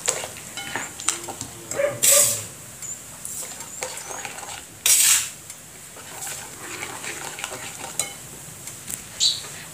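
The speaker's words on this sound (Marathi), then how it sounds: "तर ह्या पाकामध्ये आपल्याला आता रवा टाकून छान असं मिक्स करून घ्यायचं आहे." Semolina being stirred into sugar syrup in a pan for rava laddu, close scraping and clinking of a spoon against the pan in irregular strokes, with a couple of louder scrapes and knocks, no voices.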